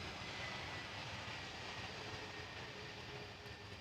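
An EasyJet airliner arriving at Amsterdam Schiphol Airport, its engines a steady, fairly faint broadband roar that holds evenly throughout with no talk over it.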